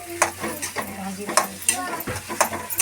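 Grated potato filling for vada pav stirred in a frying pan, a spatula scraping and pushing in steady strokes over a constant sizzle, close and loud with no talk.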